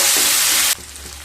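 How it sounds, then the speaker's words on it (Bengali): Two medium onions hit hot oil for a papaya and prawn curry, a loud, bright sizzle that rages for under a second and then drops abruptly to a softer, steady frying hiss with faint stirring. "কেটে রাখা 2 মিডিয়াম সাইজের পেঁয়াজ দিয়ে দেব। পেঁয়াজগুলোকে ভেজে নেব।"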